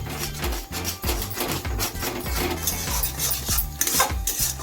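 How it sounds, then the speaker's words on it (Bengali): Egg bhurji is stirred and mixed in a pan at a street food stall, the utensil clattering and scraping in quick repeated strokes against the metal over a low sizzle. "এবার এই সম্পূর্ণটাকে সবকিছুর সঙ্গে খুব ভালো করে মিলিয়ে নেব।"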